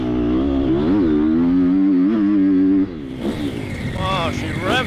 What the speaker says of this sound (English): Wow, she revs a lot.